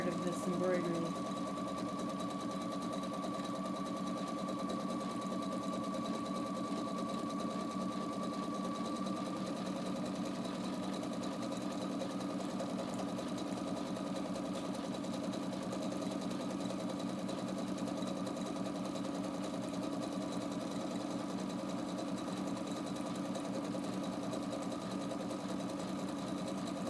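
A sewing machine runs steadily, stitching an embroidered scallop edge hem through thick embroidery, a close, even mechanical whir with a high tone held for nearly half a minute; a voice speaks over it at times.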